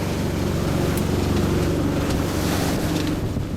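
A sailboat motors into waves at about 4.6 knots. A steady low engine drone runs under the rush of water and wind, close and fairly loud, with no voices.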